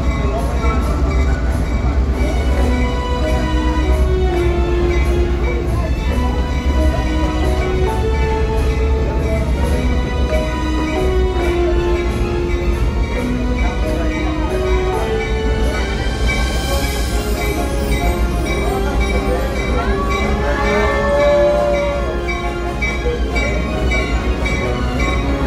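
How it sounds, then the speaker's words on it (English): An excursion train on former Lehigh Valley and Central Railroad of New Jersey trackage bound for Jim Thorpe rolls along with a steady low rumble and droning engine tones, rising and falling tonal notes, and a brief squeal of wheels partway through. "Traversing former Lehigh Valley and Central Railroad of New Jersey trackage, the train is scheduled to arrive in Jim Thorpe at noon."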